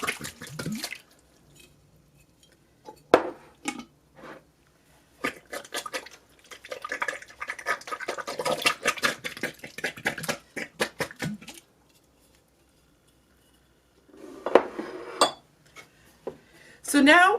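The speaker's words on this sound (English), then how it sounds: "we're just going to dump all of this in our crock pot" Frozen tomatoes and peppers dumped into a crock pot, giving scattered close clatters and knocks of hard pieces against the pot and containers, with a denser run of rattling in the middle and quiet gaps around it.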